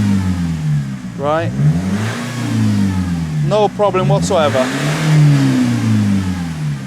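A remapped Nissan X-Trail with EGR and DPF deleted idles with a steady low engine drone, then revs up and down in rising and falling sweeps, close and loud, while someone talks over it.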